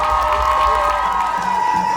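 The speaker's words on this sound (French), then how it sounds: "On peut l'applaudir très fort." An audience at a cosplay contest in Yvetot cheers and applauds in a steady, loud wash of crowd noise that carries through the whole moment.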